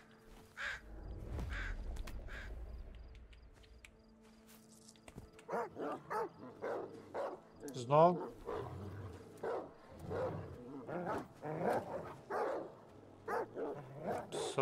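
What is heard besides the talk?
dogs barking in video game S.T.A.L.K.E.R. 2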